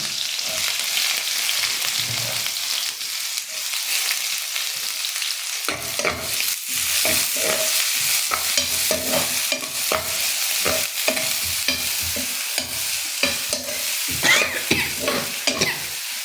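Onions fry in a pan with chillies nearby, giving a dense steady sizzle while a utensil stirs and scrapes repeatedly at close range, loud and with no talking.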